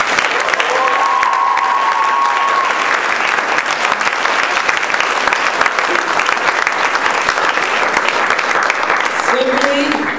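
A crowd claps loudly and continuously in sustained applause after a poem reading, dense and even throughout, with a voice briefly heard over the clapping.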